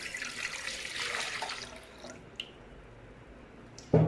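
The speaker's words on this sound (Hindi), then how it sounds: "पहले हम इसमें दूध डालेंगे" Milk pours into a pan for custard as a soft, steady splashing stream that tapers off after about two seconds, followed by faint small clicks and a louder knock at the end.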